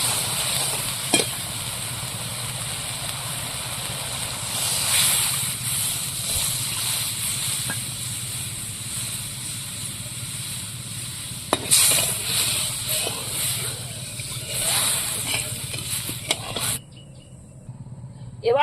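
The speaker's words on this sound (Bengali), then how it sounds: "কষিয়ে নিয়েছি, এবার জল দিয়ে দেবো।" Mustard spice paste sizzling steadily in a hot pan as water goes in for a river fish curry, a continuous loud fry with occasional stirring scrapes, no talk.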